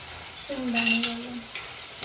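Peanuts fry directly in hot oil for kanda poha, giving a steady close sizzle with a brief tonal note in the middle.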